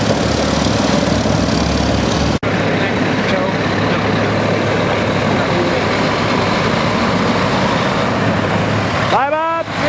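A tractor engine idles at the Red Power Round Up farm tractor show, a loud steady low chugging rumble that runs unbroken through the whole stretch, with one brief dropout and a short rising tone near the end.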